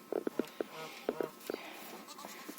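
An adult dairy goat bleats in a rapid string of short, close calls, with a few more scattered bleats after a brief pause, set in a quiet farmyard.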